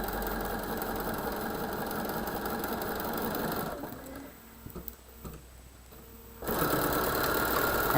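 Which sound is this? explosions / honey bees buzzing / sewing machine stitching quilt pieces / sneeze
sewing machine stitching quilt pieces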